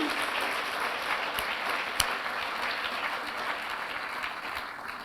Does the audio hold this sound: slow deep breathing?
no